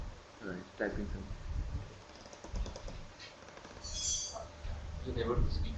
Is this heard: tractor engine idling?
no